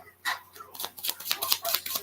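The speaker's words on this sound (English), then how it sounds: "I'm just going to shuffle the cards real well" Tarot cards being shuffled thoroughly by hand, a quick run of crisp riffling and flicking bursts close to the microphone, moderately loud, with no speech over it.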